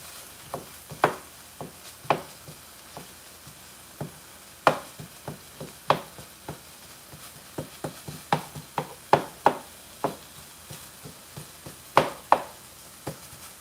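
Knife chopping Mexican stir-fry ingredients on a cutting board, a quick irregular run of close, crisp knocks of varying loudness with brief pauses between bursts.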